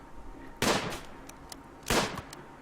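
Two sharp gunshots ring out in RimWorld, each a loud crack with a short tail, spaced about a second apart over a quiet background.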